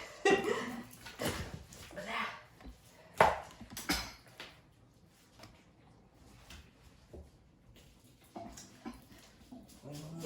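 Rough scraping strokes of a spoon scaling a fish come in quick irregular bursts at close range, with a person talking now and then between them.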